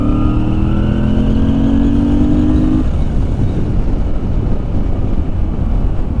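Moto Guzzi V7 Racer motorcycle pulling away under throttle: a loud engine note climbing in pitch for a few seconds, then fading into heavy wind and road rumble.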